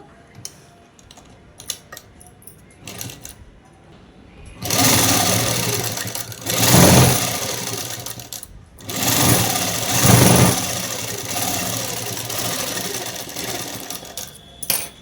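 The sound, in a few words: sewing machine stitching folded cloth for a shirt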